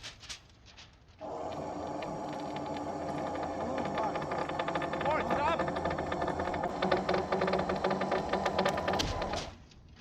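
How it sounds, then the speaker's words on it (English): A winch hauls a roof truss up a wall on a home framing job, a steady loud mechanical drone that kicks in after a second and runs continuously, with faint clatter and rattles on top, then cuts off near the end. "here the winch starts working on"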